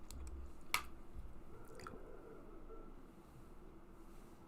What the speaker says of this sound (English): I'm trying really hard not to chew in the mic.